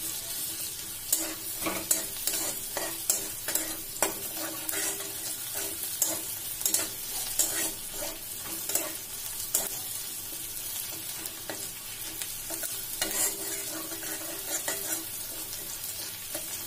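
Onions fry in a hot pan while a spoon stirs and scrapes them, giving steady close sizzling with repeated sharp clinks and scraping throughout.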